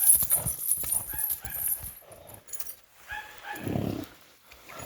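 Hoof clops from heavy draft horses, irregular and close, mixed with a low rumbling snort or grunt partway through, with some background noise.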